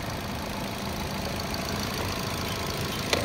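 A car engine idles steadily at an even, regular rhythm, a continuous close mechanical hum with no voices over it.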